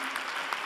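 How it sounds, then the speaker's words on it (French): Brief burst of dense audience applause at the Palais des Congrès for the event team, steady and full throughout with no break. "vous demander de faire un applaudissement à une équipe"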